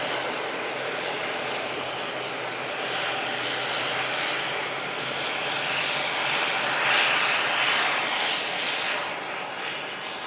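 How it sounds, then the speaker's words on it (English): An ATR turboprop airliner from Dublin taxis at Manchester Airport, a steady broadband engine roar holding at moderate distance and swelling slightly as it passes, with no talk over it. "ATR just taxiing past him from Dublin as well"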